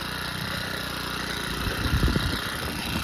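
A small 4-cycle engine on a trash-picked Troy Bilt edger with carburetor issues runs at a steady idle, close and buzzy, then briefly revs up with some rattling.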